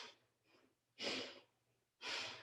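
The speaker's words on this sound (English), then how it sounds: "So let's inhale to the right, exhale to the left." Slow, deliberate yoga breathing, with a soft inhale followed by strong, breathy exhales in a steady rhythm, close and fairly loud, with no talking.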